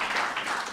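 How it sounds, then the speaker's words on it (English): Audience applause at a press launch for a charity 5K road race, a dense wash of many hands clapping steadily and fairly close for the whole short stretch, with no talk over it. "Another round of applause for Shimona"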